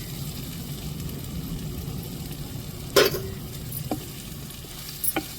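Kuzhambu masala powder being sautéed in a pan with a soft, steady sizzle throughout, broken by a few sharp scraping clicks of stirring near the middle and end, with no voices.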